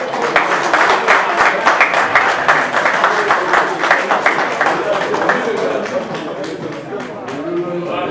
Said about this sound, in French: si on peut applaudir encore une fois très très fort l'artiste Solbaka